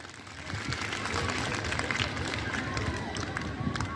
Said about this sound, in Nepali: सुन्न चाहनेले ताली भड्काउनु होला प्लिज।